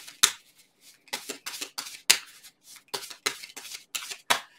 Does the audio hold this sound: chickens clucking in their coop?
no